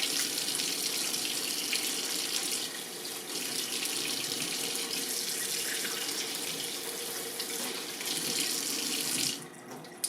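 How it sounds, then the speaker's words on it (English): Water runs steadily from a kitchen faucet into the sink while hands are washed, a continuous close splashing gush that cuts off at the end. "Go ahead and wash your hands off just a little."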